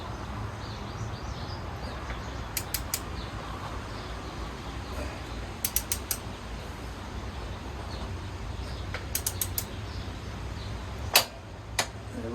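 Torque wrench on a Triumph Thruxton RS motorcycle clicking at its set torque: sharp, brief clicks in small clusters, with one louder snap near the end, over a steady low background hum.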